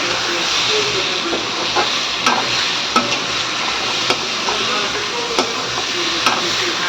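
Potatoes fry in a pan with a steady, loud sizzling hiss, broken by small pops and clinks of stirring.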